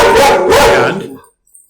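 A dog barking at someone walking by outside, heard as loud, close barking running together for about a second before stopping, with a faint trailing sound afterward.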